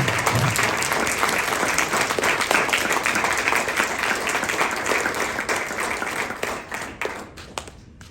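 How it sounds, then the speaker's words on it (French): Wedding guests applaud the couple at a French-speaking ceremony, a dense, loud wash of clapping from a full room that holds steady before tapering and thinning out over the last second. "Je vous demande d'applaudir les deux nobles"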